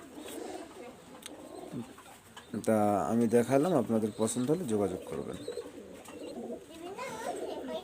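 Pet pigeons coo in soft, low murmurs, close by and gentle, while someone talks over them for much of the stretch.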